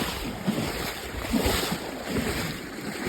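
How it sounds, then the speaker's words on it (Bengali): Heavy rain pours down during a flood in Feni, Comilla and Noakhali, with waist-deep water around, a steady loud wash of hiss and rushing water mixed with gusty wind noise on the microphone throughout. "বৃষ্টি নামছে প্রচুর পরিমাণে"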